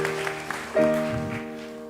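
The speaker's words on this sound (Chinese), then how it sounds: "我们再次拍手来恭喜" Congregation applause at a Taiwanese-language Sunday church service, a spread of hand claps under a sustained organ or keyboard chord, with faint voices mixed in, moderate level throughout.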